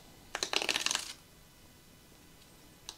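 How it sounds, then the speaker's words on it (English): TurboTax software box packaging torn open, a quick cluster of crisp cardboard and plastic rips under a second long, close and moderately loud, then near silence with one faint click at the end. "let's rip this bad boy open"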